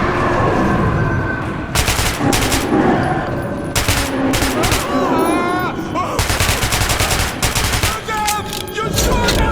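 Loud bursts of gunfire in Metro 2033 Redux come in repeated volleys with short gaps between them. Shouting voices and other game sounds mix in around the shots.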